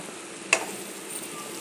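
Curry in a pan being stirred after coriander is added, a short scrape of the spoon over a soft, steady sizzle, quiet and close with no talking.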